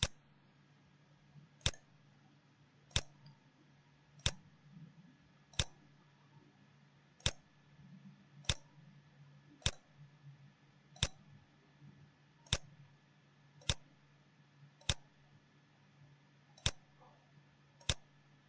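Computer mouse clicks sound one at a time at a steady pace of about every second and a half, a dozen or so sharp close taps over a quiet background hum.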